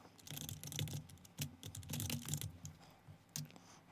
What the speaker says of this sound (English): I'm going to type in progress percent per day